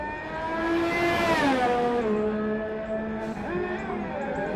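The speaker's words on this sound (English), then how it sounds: "we can hear him fire up the engine there as he just gets around the corner quite nicely" A Formula 2 race car engine in a racing video game at Monaco revs up loudly and continuously, its pitch climbing, then dropping and rising again through gear changes.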